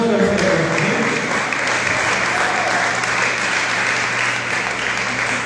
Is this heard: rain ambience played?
no